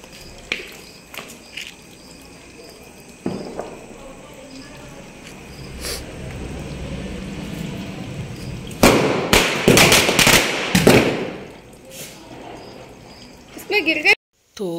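Firecrackers set off outdoors, a cluster of sharp bangs and crackles bursting close together near the middle and end, over a steady background hiss with people talking.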